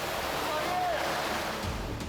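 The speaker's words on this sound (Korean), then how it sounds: "가만히 떠있기조차 힘들 만큼 파도가 몰아칩니다" A rescue helicopter's rotor churns up waves at sea during a naval survival drill, giving a steady rushing wash of surf and spray, with a faint whistle and a low thump near the end.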